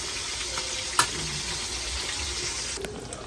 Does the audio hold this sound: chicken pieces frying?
yes